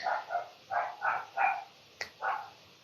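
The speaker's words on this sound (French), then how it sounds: "Petit chien de dehors qui s'exprime." A small dog barks outside at a distance, giving a string of about six muffled, evenly spaced yaps over faint background hiss.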